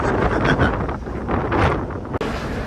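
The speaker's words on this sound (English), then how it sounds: "Oh, it's windy now." Strong wind buffets the microphone in heavy low rumbling gusts, with a brief sharp knock near the end.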